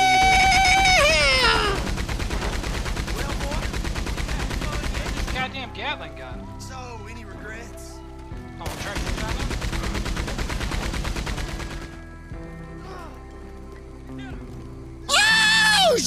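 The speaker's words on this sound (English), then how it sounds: "Gatling gun." A Gatling gun firing in a video game, long loud bursts of rapid shots with short pauses between them, heard under excited voices that shout and talk throughout.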